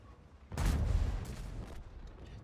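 A single heavy tank cannon shot in the World of Tanks video game, a sudden booming blast that decays over about a second, heard alone at moderate level.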